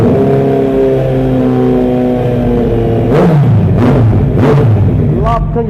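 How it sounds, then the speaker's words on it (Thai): A 2017 Kawasaki Z900 ABS with an aftermarket exhaust idles loud and close with a smooth, steady burble, then gets three sharp throttle blips that climb fast and drop quickly, with faint talk underneath. "รอบเดินเบาเร่งอัตราเร่งคันนี้ครับ นี่ขึ้นเร็วลงเร็วครับ"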